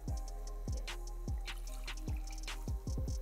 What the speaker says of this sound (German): 200 Milliliter Wasser. Ich tue jetzt auch einfach da rein.